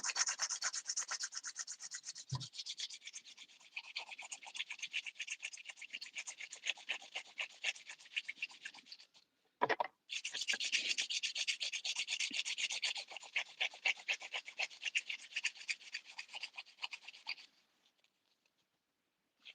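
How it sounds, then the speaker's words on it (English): Steady rasping strokes of a hand file shaping acrylic nails, close up, continuing with a brief pause midway and stopping near the end. "I like to shape my nails with the hand file."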